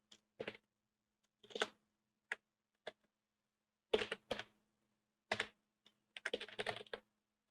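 Contact details being typed on a computer keyboard, heard as short bursts of crisp key clicks with gaps between them, ending in a faster run of keystrokes, close and fairly quiet with no talking.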